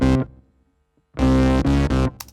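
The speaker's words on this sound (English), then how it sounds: "If you listen to just the synth we did in Paris and the bass we did in Paris, without the DI track, it sounds like this." Synth and bass recorded in Paris, played without the DI track: a short tonal burst fades out, a near-silent pause follows, then three loud sustained chord hits with deep low end and a brief high blip.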